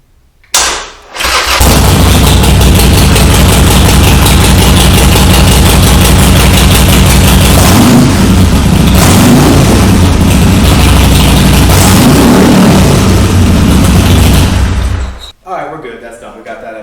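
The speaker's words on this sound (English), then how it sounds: "we'll start it up, make sure everything's in operating order. You know, we just like to hear the bike run for just a minute." A Harley Sportster motorcycle cranks and fires, then runs loud and close with a deep, throbbing idle for about fourteen seconds before shutting off abruptly.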